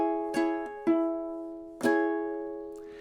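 A ukulele plays measure 12 of a song, mixing picked notes and strums: a few bright plucked chords and single notes that ring out, close and fairly quiet, with no voice.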